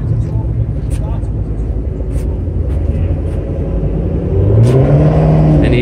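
A 2014 Grabber Blue Ford Mustang RTR Spec 2 drift car idles with a deep, rumbling engine that swells near the end as the engine is revved, with people talking nearby.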